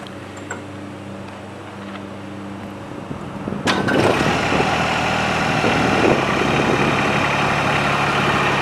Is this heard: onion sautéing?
no